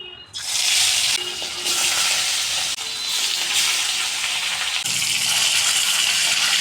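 Rohu fish pieces frying in smoking-hot sunflower oil, a loud, close, continuous sizzle and hiss that surges as each piece is added, with no voices.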